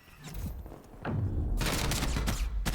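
Hipfire gunshots from Call of Duty: Cold War crack in a rapid burst, loud and close, followed by a sustained roar of fire and impacts.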